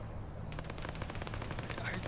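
Automatic gunfire in the video game Arma, heard as a faint, distant, rapid string of shots rattling steadily over low background rumble.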